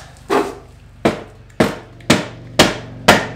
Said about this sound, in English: now what I'm going to do is grab a mallet. I should be able to give this just a love tap